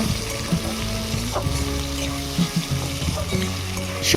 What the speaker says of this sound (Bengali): আবারও কড়াইতে কিছুটা সাদা তেল দিয়ে ভেজে রাখা সবজিগুলো এবং ভেজে রাখা ডিমটা একসাথে মিশিয়ে নেব